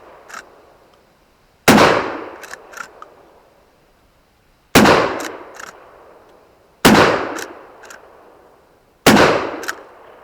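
A Dominion Arms 1887 lever-action shotgun fires four loud, close booms spaced a couple of seconds apart, each with a sharp crack, a metallic rattle of the action and a short fading echo, with no talking.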